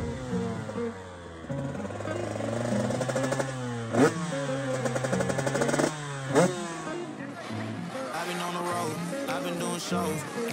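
A race motorcycle laps a track during first practice in Germany, its engine revving up and down through gear changes with two sharp peaks of acceleration, heard moderately loud and continuous with background noise.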